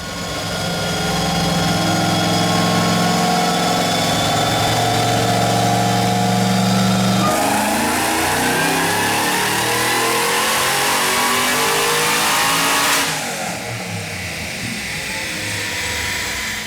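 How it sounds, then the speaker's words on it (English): An LSA V8-swapped Nissan G35 makes a loud, sustained wide-open pull on a dyno, its engine note climbing steadily before a nitrous hit midway that shifts the tone, then backs off near the end. "I'm going to show a successful nitrous hit, which you can hear midway through the pull"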